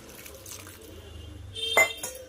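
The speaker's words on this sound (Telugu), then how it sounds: "ఇక వాటర్ వేసుకుంటున్నా" A short burst of water pouring and splashing into a pot of cauliflower curry, close by, lasting under half a second against a quiet kitchen background.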